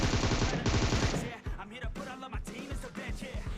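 Gunfire in PUBG Mobile: a loud rapid automatic burst fills the first second or so, then a few scattered shots and game sounds follow while a voice talks over them.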